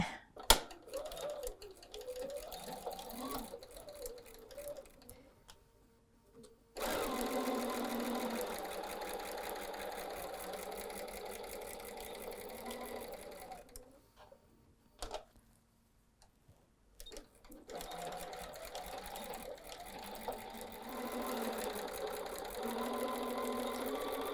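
Domestic sewing machine stitching a fabric seam for a stuffed Christmas ornament, with backstitching, running in rapid mechanical bursts separated by short pauses, fairly close and steady while running.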